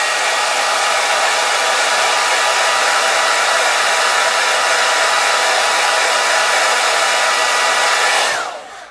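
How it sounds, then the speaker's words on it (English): A hairdryer blows steadily and loudly over a 1:72 Airfix Lightning model aircraft wing, a continuous broadband whoosh that cuts off near the end. "Come in with the hairdryer again."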